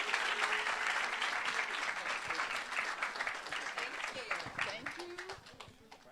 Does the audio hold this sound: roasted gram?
no